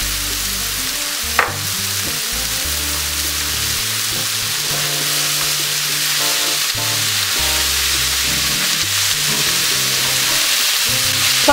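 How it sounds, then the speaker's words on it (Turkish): Spices, salt and börek filling sautéing in a pan, a steady broadband sizzle running throughout with occasional stirring clicks and scrapes, close and fairly loud, with no talking. "Tuzlarımızı koyduktan sonra 2 dakika kadar soteliyoruz."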